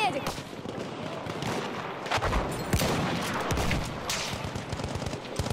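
Rifle fire in a WW1 shooter game with Martini sniping, heavy and continuous shooting with scattered sharp cracks over a dense battlefield din, sustained throughout.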